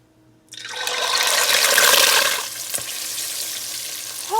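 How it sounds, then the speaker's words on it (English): Wet walleye pieces dropped into hot vegetable oil in a deep fryer burst into a loud, violent splattering hiss that swells, then settles into a steadier, quieter bubbling sizzle. "putting that fish in there, because I knew since it was wet and putting it in a deep fryer, it was gonna be interesting"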